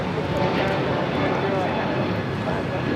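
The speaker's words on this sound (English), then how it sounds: "1036 taking off to Orlando, Florida on an A321 Neo" A Delta Airlines Airbus A321neo taking off from Los Angeles airport for Orlando, heard as a dense, even jet roar filling the air at moderate distance, steady throughout the short stretch.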